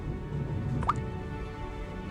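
A single soft drip of blood, used as a sound effect, plinks once near the middle against a quiet, low background hum.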